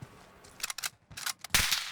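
Several sharp sniper rifle shots in an online shooter video game ring out in quick bursts, each crack bright and punchy, the last the loudest and followed by a short ringing tail.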